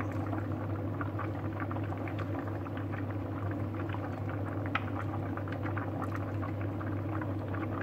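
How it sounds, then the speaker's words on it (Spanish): A pot of rice cooking with Iberian secreto pork and vegetables bubbles steadily at a gentle simmer, with a soft continuous patter of small pops over a low rumble and no voices. "vamos a esperar que se cueza el arroz durante aproximadamente un cuarto de hora"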